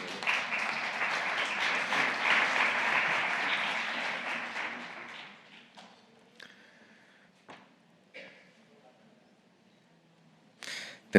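Audience at a Spanish conference on digitization applauds loudly for about five seconds, then the clapping thins out to a few scattered claps and quiet room noise.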